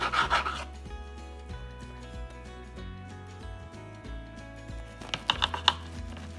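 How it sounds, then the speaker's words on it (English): A knife saws back and forth through a crusty sourdough loaf, producing a steady, close rasping scrape, with a few sharp crackles of crust breaking at the end. "having the right knife is very important because you don't want to squish it as you cut"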